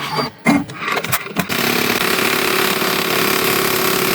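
An embroidery machine starts up after a few clatters and knocks, then runs with a loud, steady mechanical buzz and rapid needle rattle that continues to the end.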